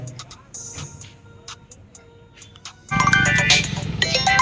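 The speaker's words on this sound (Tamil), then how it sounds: "இப்போ ஃபோன் அடிக்கிற எடுக்கிறானா என்ன மட்டும் பாரு" A mobile phone ringtone starts up partway through, a loud, steady electronic melody that takes over after a stretch of quieter background sounds in an indoor scene.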